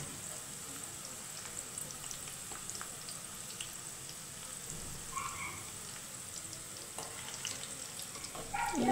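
Bitter gourd pieces fry in a pan until lightly coloured, giving a steady, moderate sizzle and crackle that runs throughout with no voices.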